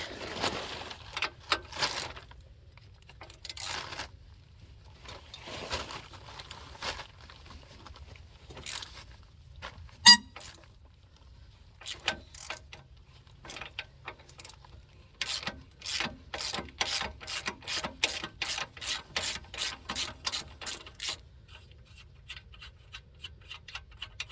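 Wrench working the 18 mm lower shock bolt on a Jeep XJ rear shock, close-up: scattered clicks and rubs, then a steady run of quick ratcheting ticks near the end, with no talking.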